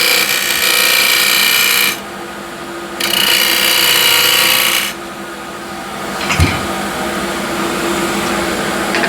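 A square scraper roughs out old window-sill wood spinning on a lathe, a loud steady rasping scrape in two long bursts with quieter motor hum between and a brief knock near the end.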